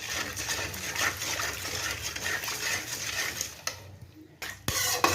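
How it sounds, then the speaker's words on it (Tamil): Mutton gravy with water and rock salt being stirred in a pot, with continuous scraping and clinking of a utensil against metal and a liquid slosh, steady and close, with a brief quieter gap near the end. "நம்ம நல்லா மிக்ஸ் பண்ணிக்கோங்க"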